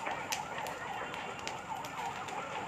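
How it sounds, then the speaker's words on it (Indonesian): A fire engine siren wails at a burning church, a distant wavering tone over crackling background noise and rapid clicks, moderately faint, with no voices. "Suara pemadam."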